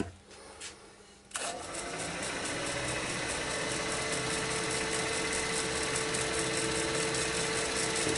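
Wood lathe cutting a mortise into the end of an upcycled chopping board, a quiet start before the machine kicks in with a loud, steady whirring grind that holds continuously to the end.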